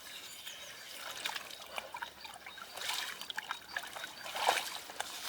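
Water trickles and splashes softly from a freshly cleared spring outlet in open ground, a faint, uneven dribble with small splatters and no talk.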